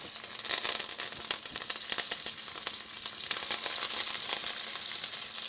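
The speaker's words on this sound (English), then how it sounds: "So then I'm going to add the curry leaves." Curry leaves sizzle in hot oil with green chilies for a vegetable korma, a steady bright frying hiss with crackling pops throughout, close and fairly loud.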